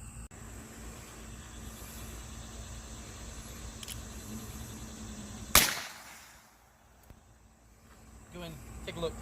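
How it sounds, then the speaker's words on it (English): A single sharp shot from an H&R .22 single-shot revolver fired at a pressurized can of Great Stuff foam sealant rings out midway through a steady outdoor background hum of insects, followed by quieter surroundings. "I'm going to shoot it with a pistol. I'm going to use a 22 single shot revolver H&R."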